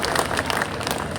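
An audience claps to welcome the chief minister of Madhya Pradesh at a public event in Bhopal, a brief burst of dense applause from a crowd, fairly close and without speech over it.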